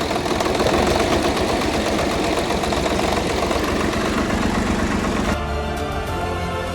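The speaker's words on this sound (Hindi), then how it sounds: "हमने स्वराज 855 में पंप लगाया, जिसके कारण ट्रैक्टर स्टार्ट हो चुका था।" An old Swaraj 855 FE tractor engine runs steadily after starting, a loud, continuous mechanical chugging close by that changes in character toward the end.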